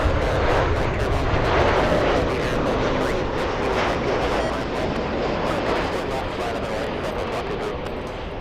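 A Virgin Atlantic heavy jet taking off from LAX bound for Heathrow, a loud, broad engine roar that fills the air and slowly fades as it climbs away, with a voice talking over it.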